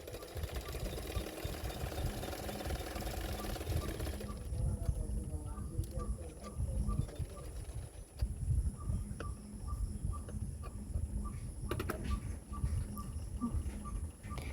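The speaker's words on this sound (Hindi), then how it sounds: "उसके ऊपर और एक सिलाई कर रही हूँ" A sewing machine stitches a ruffled sleeveless blouse with a close, steady rattling run that shifts in pace, then gives way to quieter handling and stops.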